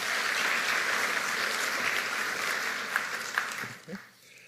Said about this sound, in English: Round of applause for Kirsten and crew.